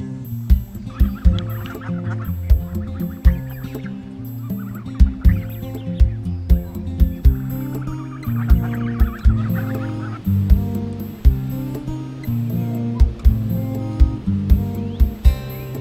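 Geese and other waterfowl honk repeatedly at the Livingston Ripley Waterfowl Conservancy, a steady run of loud, close calls overlapping one another with no talking.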